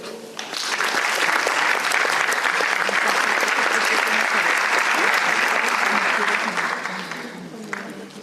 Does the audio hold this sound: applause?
yes